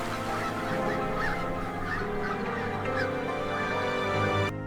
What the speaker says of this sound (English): Qinghai Lake is also a major stopover for hundreds of thousands of migratory birds every year, their calls echoing across the water